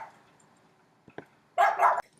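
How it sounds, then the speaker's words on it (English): Dogs at home give a couple of faint, distant yips, then one louder, longer bark close to the end, over a quiet room. "Hold on, I'll pause this while the dogs bark."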